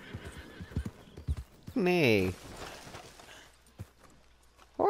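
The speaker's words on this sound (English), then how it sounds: "I hurt my horse." A horse in a video game gives one loud, wavering neigh amid rapid hoof clip-clops, close and clear, with a few brief spoken words nearby.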